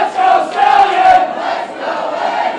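A loud wrestling crowd at a GLORY PRO match between Curt Stallion and Eddie Kingston chants and cheers in rhythmic surges, close and full, with rising and falling group shouts.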